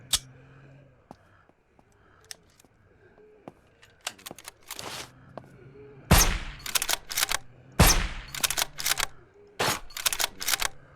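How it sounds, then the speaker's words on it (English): Hunting rifle shots in the zombie survival game Surroundead, a series of sharp cracks growing denser and louder through the second half, scattered over quiet ambience with light clicks earlier on. "Let's see if we use our hunting rifle."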